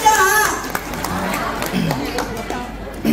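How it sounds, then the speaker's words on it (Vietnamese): A room of women clap at a respiratory health talk: scattered, crisp claps and crowd murmur run under a host's continuous talking. "một tràng pháo tay cho tất cả chúng ta đi các chị"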